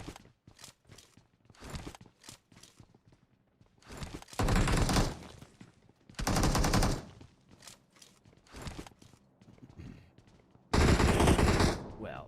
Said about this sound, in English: We see Crod firing away 3x QBZ aimed down at the Road to Death boys